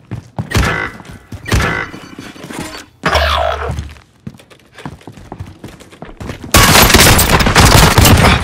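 Gunfire and mechanical clatter in Call of Duty Warzone on Rebirth Island, scattered shots and thuds early, then a loud continuous barrage of fire near the end.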